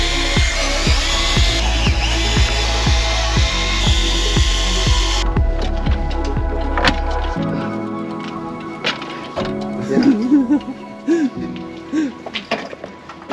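A power drill whirs in short repeated bursts as screws come out of the seat track in a 2023 Tesla Model X Plaid, then stops and gives way to faint handling noises and a voice.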